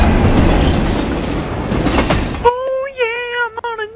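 Night train running in the video game Resident Evil 6: a loud, dense rumble and clatter of rails that cuts off abruptly halfway, giving way to a quiet musical tone with soft plucked notes.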